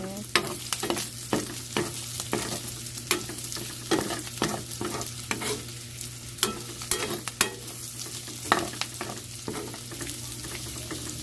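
Pork and string beans for adobong sitaw being stirred in a frying pan: steady sizzle under a quick run of sharp spatula scrapes and knocks against the pan, close and alone.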